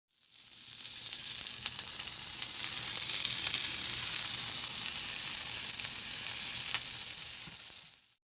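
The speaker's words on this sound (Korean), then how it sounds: "삼겹살 굽는 소리입니다" Pork belly (samgyeopsal) sizzles on a grill in a steady, loud, dense crackle of frying fat that runs unbroken like heavy rain, with occasional sharper pops and no voices.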